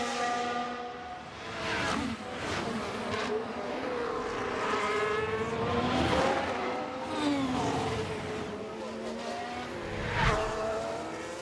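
An F1 car on a quick lap in F1 Manager 24 screams past with high-revving engine notes that rise and fall through gear changes and corners, with brief tire squeal, loud and continuous without speech.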